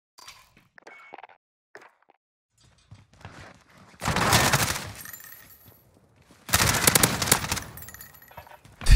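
Bursts of MP5 submachine gun fire in a video game, two long loud rapid-fire volleys after a quiet stretch with faint scattered sounds.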